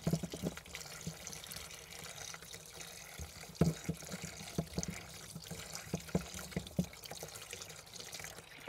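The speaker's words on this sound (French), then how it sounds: "une fois qu'on a bien rincé nos graines, on a bien frotté pour enlever la gélatine" Tomato seeds are rinsed and rubbed under running water, giving a soft, continuous trickle with scattered wet squishes and taps from handling. Fairly faint and close, with no talking.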